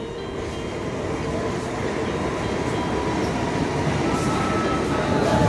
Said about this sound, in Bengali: আর কিছুক্ষণের মধ্যেই আমার ট্রেন আসতে চলেছে।